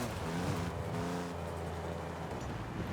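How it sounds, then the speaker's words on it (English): Car engine in the Forza Horizon 5 racing game with a rough, raspy note like a straight-piped 1.9 PD130 diesel, a steady close drone with no talk. "Why does it sound like a really crappy straight pipe diesel? Like a little PD 130 diesel."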